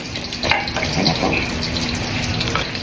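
Garlic hitting hot oil in a pan sizzles with a bright, continuous hiss, punctuated by a few crackles and stirring clinks, close and steady without talk.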